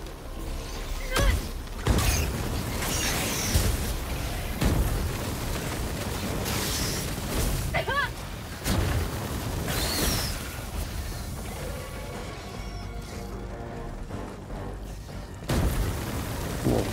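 Flamethrower fire in Helldivers 2 bursts in repeated roaring gusts mixed with game booms and crashes, loud and dense throughout, with a player talking at moments.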